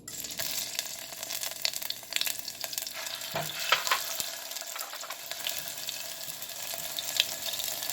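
Sofrito with garlic paste sizzles and crackles in hot oil for Puerto Rican style beans. A steady frying hiss is broken by stirring clatter and a brief lull in the middle.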